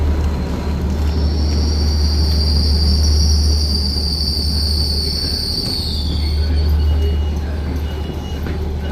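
Train wheels squeal steadily on the rails at Verona station, a sustained high metallic whine held over a deep rumbling rolling noise for several seconds.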